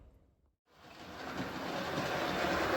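Model railway train rolling along the track, starting after a brief silence and building into a steady rumbling clatter that grows slightly louder as it approaches.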